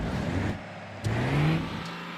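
A truck engine in the video game Dangerous Road 2 whirs and revs at low volume, its pitch climbing in a short rising surge after a brief lull.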